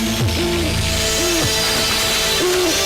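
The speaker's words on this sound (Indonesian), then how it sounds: "Burung hantu." An owl hoots several times in a quiet outdoor setting, short gliding calls that repeat at irregular intervals over a low background hum.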